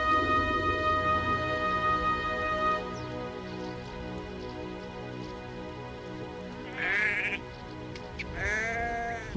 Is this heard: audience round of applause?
no